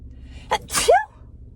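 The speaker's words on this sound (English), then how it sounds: "Oh, I was about to sneeze." A single close sneeze with a sharp inhale and a burst of breath, ending in a short voiced squeak, alone in a quiet room.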